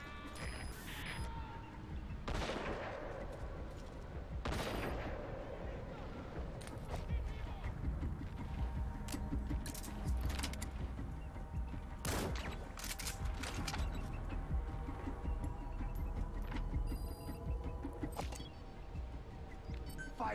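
Gunfire in the video game Metal Gear Solid V: The Phantom Pain comes as scattered sharp shots, some in quick bursts, over a busy background of mechanical noise and distant action.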